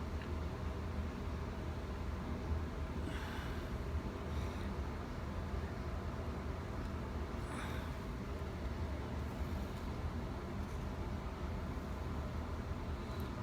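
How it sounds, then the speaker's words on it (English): A household air conditioner runs steadily in the background, a constant broadband hum and hiss with no change in level, accompanied by faint scattered clicks. "You might hear the air conditioner running in the background"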